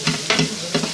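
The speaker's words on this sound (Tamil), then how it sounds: "எண்ணெய் ஊற்றி பட்டை கிராம்பு பொடி போட்டு இஞ்சி பூண்டு பேஸ்ட் போட்டு வெங்காயம் போட்டு தக்காளி போட்டு வதக்கிட்டு இருக்காங்க" Onions and tomatoes with ginger-garlic paste, cinnamon and clove powder sautéing in oil for a village-style curry, with close, loud sizzling and a few sharp stirring scrapes in a quick, uneven rhythm.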